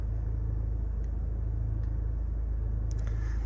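A Honda Accord idles with a bored-out exhaust, a steady low rumble holding throughout at modest level, with a few faint clicks over the top.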